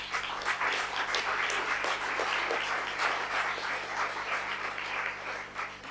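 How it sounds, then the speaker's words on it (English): Conference audience giving a round of applause for a comms team, steady diffuse clapping in a large hall over a low constant hum, moderately faint and sustained. "we'll have a little bit of a round of applause for the Steps for Life comms team"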